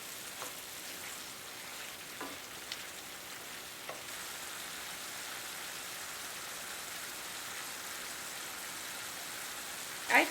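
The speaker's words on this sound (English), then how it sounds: "I'm going to stir that up really good and just let it simmer until that meat is fully cooked" Meat and vegetables for Philly cheesesteak sliders simmer in a pan on the stove, giving a steady soft sizzle throughout with a few faint stir clicks, and a louder clatter right at the end.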